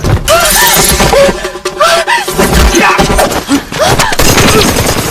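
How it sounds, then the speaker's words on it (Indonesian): Loud gunfire during a fight scene in a hostage-holding room, dense rapid bursts of shots with crashes and shattering, continuous and close throughout, with a brief voice in the mix. "Tembakan di ruang penyekapan itu mengagetkan para penjahat"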